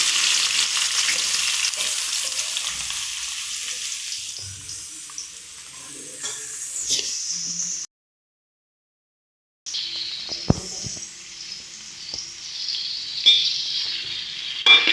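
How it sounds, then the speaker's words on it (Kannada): Onions frying in hot oil in a pan, a loud crackling sizzle with stirring clatter, briefly cut to silence midway before resuming, no talking. "ಕಲರ್ ಚೇಂಜ್ ಆಗೋಲ್ಲಿವರೆಗೆ ಹೀಗೆ ಫ್ರೈ ಮಾಡಿ."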